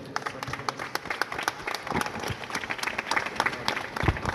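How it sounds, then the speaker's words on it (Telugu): A congregation claps together at the dedication of a new church prayer hall, a dense, lively round of applause that carries on steadily from start to finish. "చప్పట్లు కొడతా."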